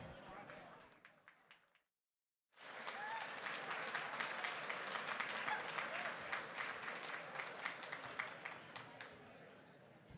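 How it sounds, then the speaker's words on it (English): An audience breaks into loud, sustained applause after a short silence, dense clapping from a large crowd at a charity gala that holds steady for about eight seconds. "the applause it's not where we need it to be"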